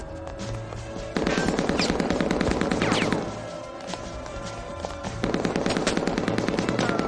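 Rapid automatic gunfire in a shooter video game comes in dense, sustained bursts, loud and close, with a lull in the middle before the firing picks up again.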